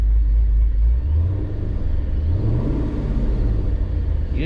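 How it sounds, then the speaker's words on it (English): Steady, loud engine rumble from a cammed 5.7 R/T with a ProCharger supercharger, a droning low hum; the supercharger whine is faint and buried beneath the engine noise. "You can barely hear the whine because I got those quiet gears"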